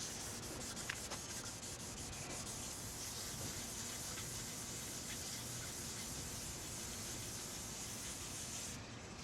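Steady rhythmic scratching of sandpaper rubbing boat gelcoat, a continuous close hiss with no pauses.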